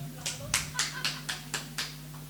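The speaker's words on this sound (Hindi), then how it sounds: "बजाओ ताली" An audience at a Jain temple cultural program claps in a short, evenly spaced burst of about eight sharp claps, fairly faint over a steady low hum.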